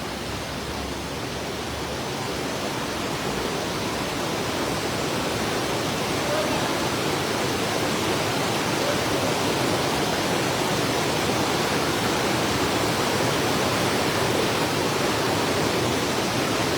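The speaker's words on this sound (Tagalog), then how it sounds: "Bagong waterfalls. Bagong spot." A newly found waterfall at a riverside fishing spot gives a dense, unbroken roar of falling water that stays loud and even from start to finish, with no voices over it.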